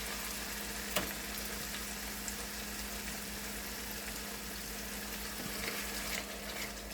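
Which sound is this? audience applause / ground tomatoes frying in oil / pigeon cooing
ground tomatoes frying in oil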